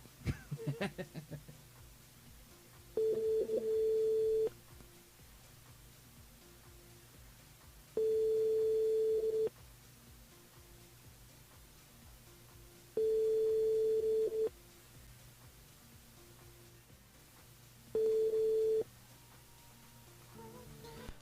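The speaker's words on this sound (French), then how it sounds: "Et on appelle Mégane du côté de Saint-Pierre" A telephone busy signal sounds during a radio phone-in call, four evenly spaced steady tones each lasting a second or two, separated by quieter gaps of line noise, with a short burst of talk at the very start.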